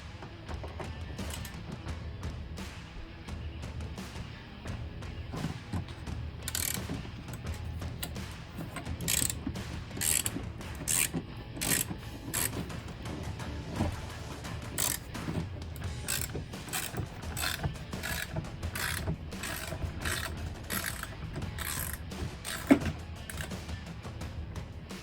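A ratchet with a 10mm socket clicks in repeated short bursts while turning bolts on a C7 Corvette, close and steady with small pauses between strokes.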